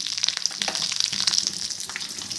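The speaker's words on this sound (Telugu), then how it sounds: "కొంచెం కరివేపాకు కూడా యాడ్ చేసుకున్నాము. వేగిపోయాయండి." Curry leaves fry in hot oil in a pan, giving a steady, close crackling sizzle dense with tiny pops that runs unbroken for the whole stretch, with no talking.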